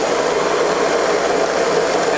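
Ruwac W155EX air-powered explosion-proof vacuum sucking up bentonite through a 2-inch hose, a loud, steady broadband roar of rushing air that holds constant throughout with no pauses.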